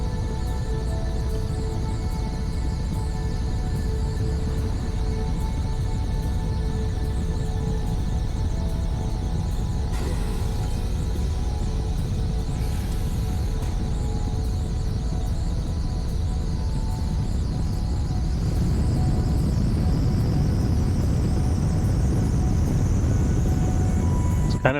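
Aircraft engine roaring steadily at maximum thrust in Kerbal Space Program 2, a continuous droning whine with a rising tone near the end, heard alone without talk.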